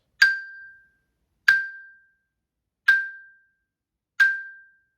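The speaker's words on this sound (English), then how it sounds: "It should sound like this." Four single struck xylophone bar notes, evenly spaced about a second apart, each a bright clear tone that rings briefly and decays into silence.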